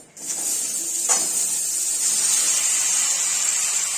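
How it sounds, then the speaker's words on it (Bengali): Pointed gourd pieces drop into hot oil and set off a loud, steady sizzle that starts suddenly and hisses on without a break. "এই তেলটাতে এখন পটলগুলো দিয়ে দিব।"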